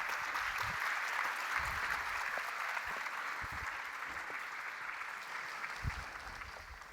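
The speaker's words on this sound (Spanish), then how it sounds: "Un aplauso al Liceo Gabriela Mistral de Cañete." An audience applauds the students of Liceo Gabriela Mistral de Cañete at a school event, a sustained wash of clapping with a few louder individual claps standing out, steady from start to finish.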